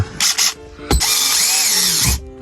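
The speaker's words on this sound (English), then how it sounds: "then I'm gonna drill the top one" A power drill whirs in short bursts, then runs in one longer steady spin with a rising whine as it bites into a semi truck's metal body, close and loud.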